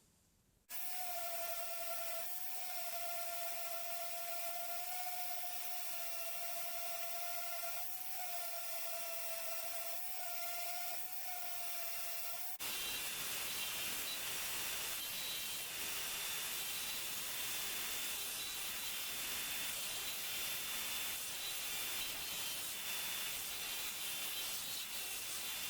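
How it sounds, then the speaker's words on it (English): A close power sander runs steadily on wood, first with a tonal motor whine, then a harsher, continuous grinding hiss. "Now to start sanding."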